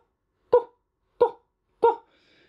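A higher-pitched dog bark imitated with the voice through a didgeridoo, three short sharp yaps spaced about two-thirds of a second apart, close and clear against silence.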